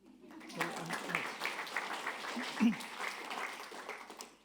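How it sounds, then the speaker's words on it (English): A large crowd at a packed university lecture claps together, a dense, steady wash of applause that carries through the whole stretch with a few louder swells. "So give yourself a clap."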